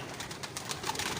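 Pigeons cooing in a loft, soft repeated rolling coos close by over a busy background of fluttering and other birds, with no talk.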